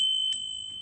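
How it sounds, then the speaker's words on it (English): A small bell rung to open a live tarot reading gives a single bright ding over a faint continuous high tone, with a softer second strike near the end and no voices. "so let's ring the bell"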